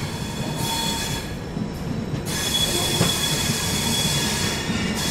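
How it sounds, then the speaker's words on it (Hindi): Humsafar Express train wheels running over track changes and crossings on a busy junction stretch, a steady loud rolling rumble with screeching squeals and clunks from the rails. "इस चक्कर में बहुत ज़्यादा लाइन्स आती हैं जाती हैं, ट्रैक्स चेंज होते हैं, इसलिए इतना ज़्यादा ट्रैक साउंड है यहाँ पर।"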